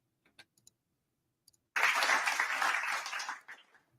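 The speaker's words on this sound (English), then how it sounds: "30 seconds of clapping." A dense burst of cartoonish crowd-style clapping begins abruptly, holds for under two seconds and tapers off, preceded and followed by a few faint scattered clicks.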